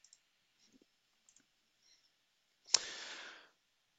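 A computer mouse gives a few faint, separate clicks while someone works in CAM software, and a louder rustling burst follows.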